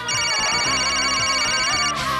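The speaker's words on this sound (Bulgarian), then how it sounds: "И стига с тия телефони!" Telephones ring in a busy room, with electronic trilling tones layered over one another in a loud continuous jangle and a thumping background beneath.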